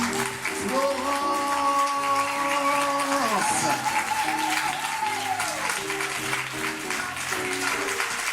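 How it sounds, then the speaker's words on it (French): A studio audience at a French radio broadcast applauds steadily and fairly loudly, while a held musical chord glides downward and then fades beneath the clapping. "Vos applaudissements pour Florence,"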